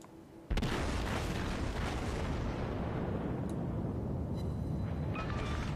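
A loud explosion erupts suddenly as an enemy cruiser is destroyed in World of Warships, a sharp boom followed by a sustained, roaring blast that stays heavy to the end.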